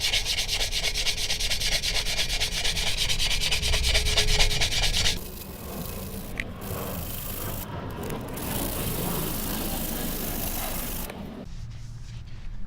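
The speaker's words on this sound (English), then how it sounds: "we're gonna start by sanding it down." Sandpaper worked back and forth over a metal exhaust tip: close, steady, rhythmic rubbing strokes, loud at first, then a lighter, rougher scrape with brief pauses near the end.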